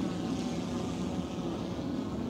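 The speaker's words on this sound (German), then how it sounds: "Ich höre die Drohne." A camera drone flies over a harbour where a container ship is being turned by tugs, its steady buzzing propeller drone humming continuously at moderate distance.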